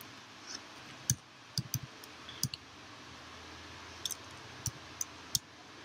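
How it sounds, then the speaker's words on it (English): Card numbers tapped into a phone: a scattered run of soft, sharp clicks in irregular groups, close by and quiet, with no talking. "typing the first six number."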